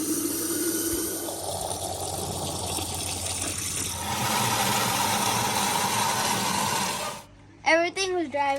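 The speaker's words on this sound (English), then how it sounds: "So we've got to fill it up with the hose." Water from a hose filling the radiator of a 1980 Chevy Camaro, a steady close rushing gush that grows fuller midway, then cuts off as a voice speaks briefly at the end.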